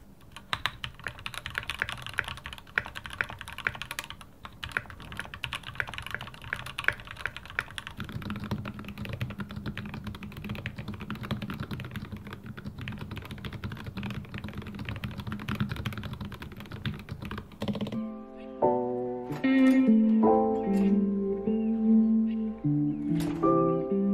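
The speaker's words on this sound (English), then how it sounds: "So this is the Keychron Q3. It's like their newest keyboard." Steady, fast clacking of keys on a Keychron Q3 mechanical keyboard, close and continuous, with a brief tonal melody rising near the end.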